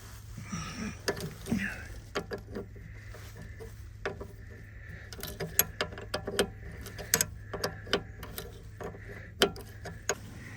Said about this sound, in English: I'm going to take a number 12 and I'm going to back off the brake here